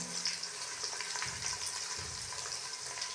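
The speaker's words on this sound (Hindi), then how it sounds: "मैंने प्याज डाल दिया, घी भी डाल दिया। अब इसको करते हैं बनाई।" Onions sizzle steadily in hot ghee in a pan, a continuous close crackle and hiss with occasional low stirring scrapes and no voices.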